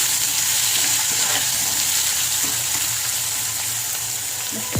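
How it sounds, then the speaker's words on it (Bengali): Brinjal (eggplant) slices fry in hot oil in a pan, a loud, dense, continuous sizzle and crackle that holds steady throughout, close up. "এবার এই তেলে আমি বেগুন ভেজে নেব"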